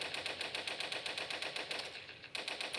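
Rapid rattling bursts of spread-shot bullet fire in the Toilet Monster video game, a fast even machine-gun rhythm that runs almost without pause, broken by one brief gap near the end.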